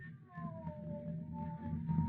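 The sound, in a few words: cat meowing, sound effect in radio play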